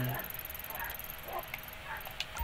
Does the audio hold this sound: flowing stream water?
no